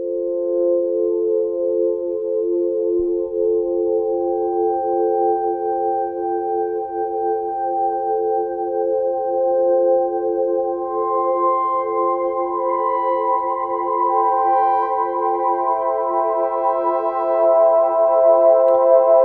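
Sustained Novation Summit synthesizer pad chords swell and shift slowly, with a long, washy reverb tail blending the notes into a smooth, continuous drone.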